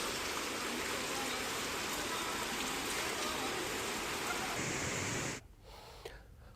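Heavy monsoon rain in Madhya Pradesh pours down as a dense, steady hiss. It stays loud and unbroken for about five seconds, then cuts away to a quieter background.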